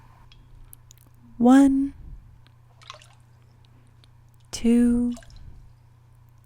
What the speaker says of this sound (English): Next, I'm adding sherry vinegar for some acidity